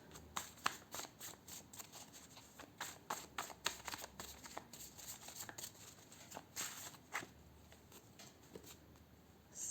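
Health and lifestyle cards shuffled for a tarot reading, a quiet, close, irregular run of papery riffles and flicks with no talk.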